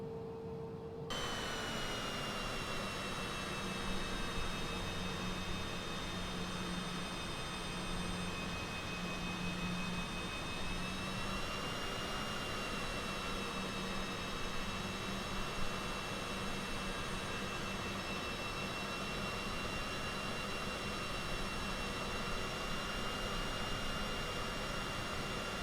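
Steady, continuous whine and rumble of a jet airliner taxiing in a flight simulator game at Chicago Midway airport, a constant engine drone with high tonal hum that holds level throughout, no talking.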